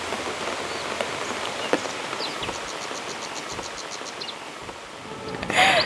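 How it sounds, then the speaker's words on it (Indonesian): Steady rain falls at night outside a resort room in Bogor, a dense, even patter with faint insect chirps behind it and a brief louder burst near the end; no one speaks. "Semalam itu hujannya lumayan lama."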